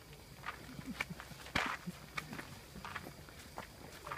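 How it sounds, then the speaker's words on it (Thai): Footsteps trudge up a steep, difficult mountain trail toward the summit of Khao Khitchakut, an uneven run of close crunching steps with one louder scuffing impact midway, over faint outdoor background. "นี่กำลังเดินขึ้นเขาครับ"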